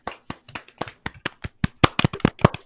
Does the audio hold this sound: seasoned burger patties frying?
no